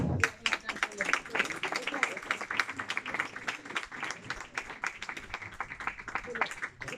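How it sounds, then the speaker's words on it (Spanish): Audience applause at a talk on mundane astrology, a dense run of claps lasting throughout, moderately loud and close, with a speaking voice partly mixed in. "Un aplauso"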